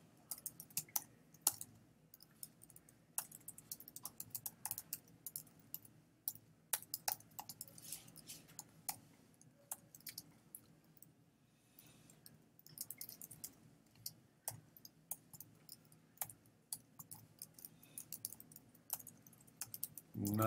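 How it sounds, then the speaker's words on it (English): Typing on a computer keyboard while writing web page code: faint, irregular bursts of quick key clicks with short pauses, recorded close in a quiet room, with no talk. "Not the best typing day."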